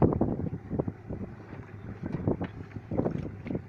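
Continuous rumbling boat noise while returning from drop line fishing, with buffeting wind and choppy water slaps, loud and close, no voices.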